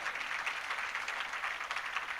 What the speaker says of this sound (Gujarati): એક વખત જોરદાર તાળીઓથી વધાવો.